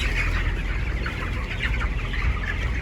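Steady clucking from a flock of broiler chickens in a poultry house, several birds overlapping continuously at moderate loudness, with a low background hum throughout.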